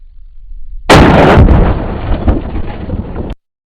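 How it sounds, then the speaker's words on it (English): A single loud, close .30 caliber rifle shot fired into a ballistic plate, a sharp blast that rolls out for a couple of seconds over light wind noise and then cuts off. "put the ballistic plate in front of it and see if we can't duplicate that shot as well"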